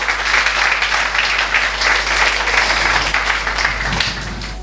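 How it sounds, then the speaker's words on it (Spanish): A church congregation claps together in warm, sustained applause after a sermon, a dense, even patter of many hands that eases off slightly at the end. "Si cree esto, denle un aplauso al Señor."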